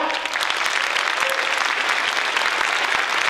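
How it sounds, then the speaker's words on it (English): Audience applause at a teachers' conference keynote, a dense, steady wash of many hands clapping that fills the room at even loudness from start to finish. "Let's clap for that."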